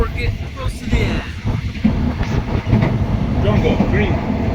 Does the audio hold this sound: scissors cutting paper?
no